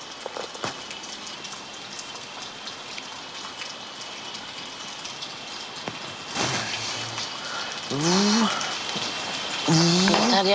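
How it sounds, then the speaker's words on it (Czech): Steady rain falls on a surface in a Czech reality-show house, a continuous close patter throughout, with voices breaking in loudly toward the end. "Ježišimária. Prší,"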